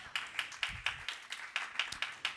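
Church congregation clapping together during a Spanish-language sermon, a steady rhythmic beat of about ten claps, somewhat distant and soft, with room murmur underneath.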